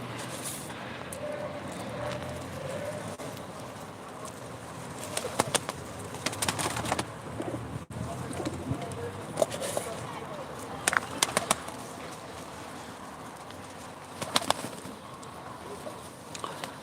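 Young pigeons, including smoky-coloured squabs, coo and flutter at a live pigeon auction in Ankara, soft calls and occasional wing claps scattered over a steady background murmur, with someone talking intermittently.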